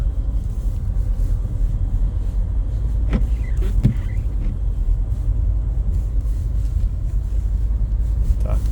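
A 2010 Volvo XC60 D5 with all-wheel drive climbs a snowy hill, its diesel engine a steady low rumble inside the cabin, with a few faint knocks and creaks partway through.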